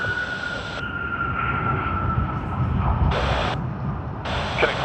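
Jet airliner landing at Sydney Airport, a steady broad engine roar with a tonal whine running throughout, loud and continuous, with brief bursts of hiss as the nose gear comes down.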